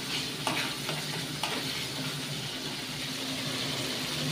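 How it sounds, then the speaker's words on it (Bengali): Spice paste (masala) fries in hot oil with a dense, steady sizzle and a few faint stirring taps, close and continuous, no one speaking. "মশলাটা ভালো করে ভেজে নেব।"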